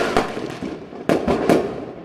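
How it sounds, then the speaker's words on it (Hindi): Children setting off firecrackers in a village on Diwali morning make several sharp, loud bangs in quick succession, each snapping out and then fading before the next burst. "बच्चे पटाखे चला रहे हैं"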